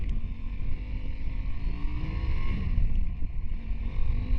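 KTM 890 Adventure Rally motorcycle ridden off-road outside Las Vegas, its engine a steady low rumble heavily mixed with wind roar over the microphone, continuous and loud for the whole stretch.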